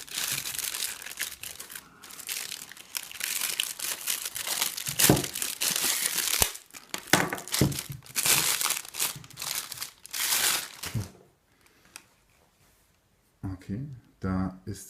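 Crinkly plastic packaging is unwrapped from a Lomography Daguerreotype Achromat 64mm f/2.9 art lens, with close, continuous crackling and rustling bursts that thin out into brief quieter handling near the end; a voice talks briefly at the close.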